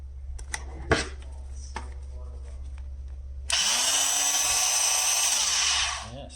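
Yunirvana 22000 OPM 1.5A oscillating multi tool switched on after a few handling clicks and knocks, giving a loud, steady high buzzing whine for about two and a half seconds before winding down, over a constant low hum.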